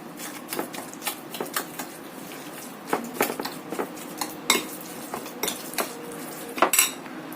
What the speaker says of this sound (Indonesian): Kemudian kita aduk sampai tercampur rata.